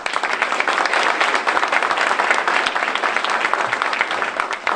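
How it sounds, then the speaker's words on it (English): Sustained applause from a town hall audience filling the room, dense steady clapping without breaks, close and loud, running the whole length with no voices standing out. "Let's give them a round of applause."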